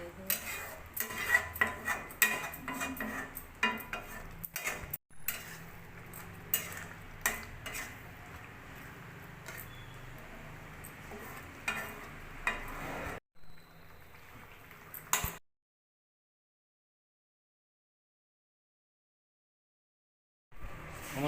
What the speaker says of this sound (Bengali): এবার চিনিটা দিয়ে ভালো করে মিশিয়ে নিব।